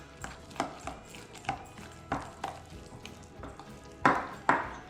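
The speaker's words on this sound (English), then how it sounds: "I'm gonna stir it and see how it looks." A spoon stirs thick sourdough starter after flour has been added, giving a series of soft scraping knocks against the container, irregular and close, with two louder scrapes near the end.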